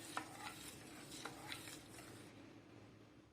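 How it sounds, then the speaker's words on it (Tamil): Milk heating in a heavy-bottomed pot while a spoon stirs it, a quiet close scraping with a few light taps over a low bubbling hiss, briefly heard. "வச்ச உடனே ஒரு கிளறிடுங்க"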